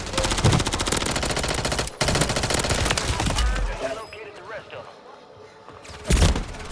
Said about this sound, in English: oh, I'm being shot at